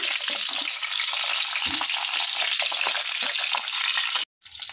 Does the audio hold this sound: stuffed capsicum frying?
yes